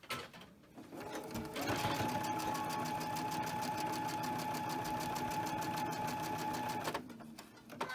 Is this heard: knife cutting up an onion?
no